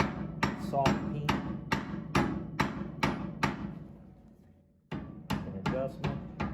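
Hot steel hammered over forging tongs with a rounded soft peen hammer, a run of ringing close blows in steady rhythm, a brief pause, then another quick series of strikes.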